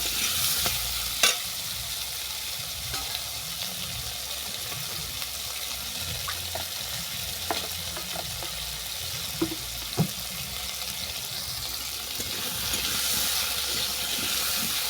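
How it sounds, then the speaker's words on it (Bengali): Vegetables with turmeric frying in a pan for a neem jhol with drumsticks, brinjal and bori: a constant hissing sizzle, with sparse clicks and scrapes of a spatula turning the mixture, no speech. "এটাকে অল্প করে নেড়ে নেব"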